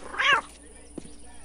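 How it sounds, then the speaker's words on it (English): A cat in Postal 2 lets out one short, loud meow near the start, followed by a faint, brief second noise, close-up and without talking. "I picked up a cat."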